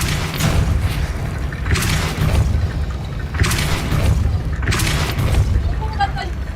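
Depulso spell cast in a Harry Potter video game, heard as repeated heavy booming blasts, roughly four evenly spaced bursts over a steady low rumble of game background noise.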